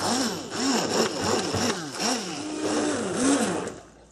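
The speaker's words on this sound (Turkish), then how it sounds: "Şimdi blenderdan geçireceğiz." A blender purees soft cooked fruit for baby food, a loud close motor whirring with repeated rising and falling pulses and no talking.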